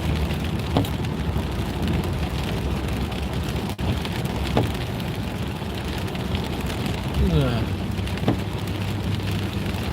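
Steady rain falls around a car during a New Year's Eve drive, a constant close hiss of drops with a few soft knocks and a brief sweeping tone near the end.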